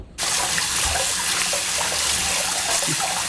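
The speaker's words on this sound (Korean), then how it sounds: "찬물에 얼른 씻어올게요." Cold tap water gushes steadily into a sink to rinse boiled soybeans, a loud, continuous splashing rush that starts abruptly and runs on without talk.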